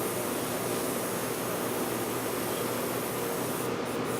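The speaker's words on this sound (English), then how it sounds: "I pull the button back and I start getting a bit of colour. And it's just like an aerosol can" An airbrush sprays paint like an aerosol can as its button is pulled back, giving a steady, close, even hiss of air that runs unbroken throughout.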